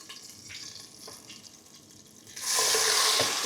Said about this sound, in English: now that the oil is hot, I'm now going to add this. Just hope it doesn't splash all over.